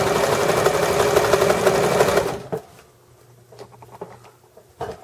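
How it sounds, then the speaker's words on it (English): An electric sewing machine runs in a fast, steady whir while stitching along the raw edge of a placemat, then stops after a couple of seconds, leaving a few light handling clicks. "when you're stitching, you have to keep it tight."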